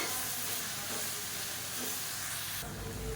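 Mint and coriander leaves sautéing in a pan for chutney, a dense steady hiss of frying that swells louder toward the end.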